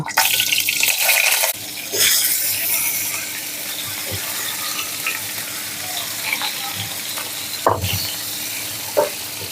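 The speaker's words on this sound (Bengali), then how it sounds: "এই তেলের মধ্যেই আমরা ফুলকপিগুলোকেও ভেজে নেব" Cauliflower florets frying in a pan of oil, after potatoes, hiss loudly and continuously, broken by a few utensil scrapes and clinks as the pieces are stirred.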